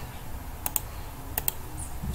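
Fingers tap a computer keyboard to enter a name, two pairs of quick, close key clicks about half a second apart over a low room hum, with no talking.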